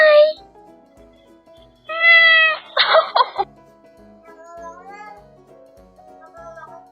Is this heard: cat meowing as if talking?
yes